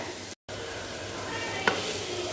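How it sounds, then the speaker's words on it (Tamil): Onions and kulambu powder sautéing in a pan for egg kulambu give a steady, moderately loud sizzle, broken by a brief gap and one sharp scrape of stirring near the end. "குழம்பு பொடி போட்டு ரொம்ப நேரம் வதக்க தேவையில்லை"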